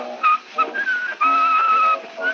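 A man whistles a tune on an 1890s phonograph recording, the melody thin and wavering over steady surface hiss with a narrow, old-fashioned tone.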